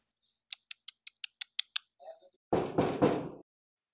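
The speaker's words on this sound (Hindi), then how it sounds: "गुड्डू जाओ देखो दरवाजे पे कौन है" A quick series of about eight sharp knocks on a door, fairly crisp and close, followed by brief voices talking.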